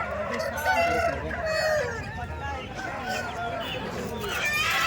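A rooster crows amid a busy outdoor rooster market at Kundarapalli, with people talking and other birds clucking around it, fairly close and steady throughout.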